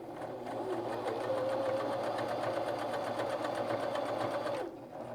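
A sewing machine hems a pair of jeans, a loud, rapid, even mechanical chatter running continuously for about four seconds before cutting off.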